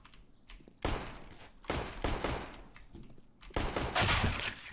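Gunfire in a shooter video game: several bursts of rapid shots crack out in clusters with short pauses between, fairly loud and close, no talk over them.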